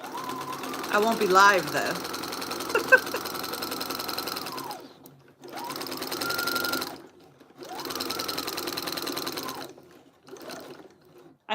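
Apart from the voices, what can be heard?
sewing machine sewing fabric for diamond art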